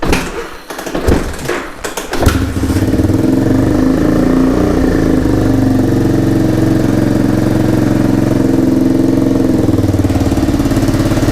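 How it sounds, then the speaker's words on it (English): After a few clunky mechanical knocks, a Honda motorcycle engine, run without its exhaust leak, starts and settles into a loud, steady idle close by. "Let's kick it over and see how it sounds without the exhaust leak."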